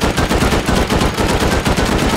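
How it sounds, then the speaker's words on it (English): A shotgun trap in the game Rust fires a loud, rapid burst of repeated shots at a close, even rhythm, with no other sound under it. "watch out for shotgun trap"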